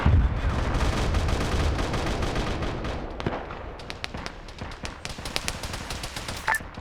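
Missile fire in a Warhammer 40K game: a dense, rumbling barrage opens loudly, then thins into a run of sharp, separate bangs and blasts at varying distances.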